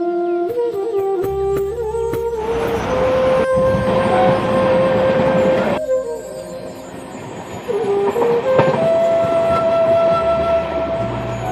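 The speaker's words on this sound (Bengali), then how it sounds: "ঠিক তখনই আমাদের ট্রেন এসে গেল।" An Indian passenger train pulls into a railway station, a loud, close rumble of rolling cars under long sustained horn-like tones that shift in pitch across about eleven seconds, with no talking.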